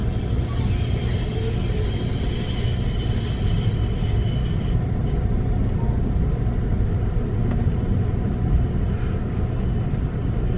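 Amtrak California Zephyr train crossing a trestle bridge, a continuous heavy low rumble of wheels on rails with faint metallic squeals, sustained and close throughout.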